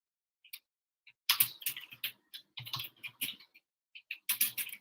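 Typing on a computer keyboard comes in quick irregular bursts of close, crisp key clicks separated by short pauses, with no talking.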